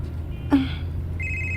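A phone rings with an incoming call, giving a steady electronic ringtone in the last part of the short clip, preceded by a brief knock or thump over a quiet room hum.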